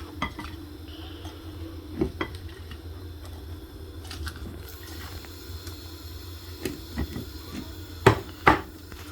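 Cooked lafidi (fouti) is scraped and spooned from a pot into a bowl: scattered metal clinks and knocks, stirring scrapes and a faint sizzle, close up with no talking.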